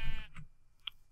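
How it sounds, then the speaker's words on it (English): A short sheep bleat in Minecraft, one wavering cry at the start followed by a couple of sharp clicks, with no one speaking. "It's that sheep!"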